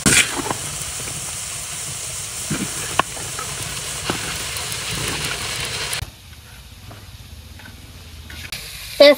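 Cauliflower and mixed vegetables with onion, chili and garlic sizzle steadily in hot oil in a village kitchen pan, a loud continuous hiss with occasional stirring scrapes, quieting partway through before flaring up again.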